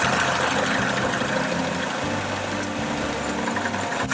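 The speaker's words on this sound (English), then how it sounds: "You can see the engine is running rough and there is nothing there." A car engine idles roughly with one ignition coil unplugged, a loud, close, uneven chugging with irregular low stumbles and misfire-like knocks throughout, with no voices.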